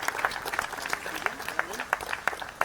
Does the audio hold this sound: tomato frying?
no